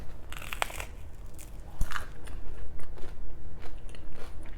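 Biting into crunchy gluten-free vegan bread with a crisp crust and spongy inside: close crunching bites and chewing in irregular bursts, with no talking.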